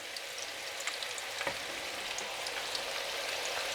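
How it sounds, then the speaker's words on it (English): Kebabs left to cook undisturbed in a hot pan, giving a soft, even frying hiss with faint crackles, steady and fairly quiet throughout. "once they go in, don't move them around, just leave them to cook away for a couple of minutes."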